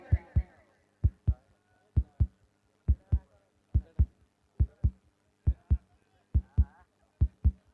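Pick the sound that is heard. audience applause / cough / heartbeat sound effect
heartbeat sound effect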